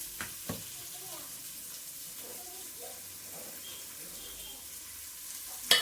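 Onions fry in a large 12-litre pressure cooker for avarekalu pulao, a faint, steady sizzle with a couple of sharp clicks at the start and a knock at the end.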